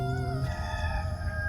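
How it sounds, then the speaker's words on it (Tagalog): Wild roosters crowing outdoors, a steady drawn-out crow at moderate distance with a layered, constant background of other birds and ambient hum. "yung maririnig natin ng nagtutulaok yung mga manok"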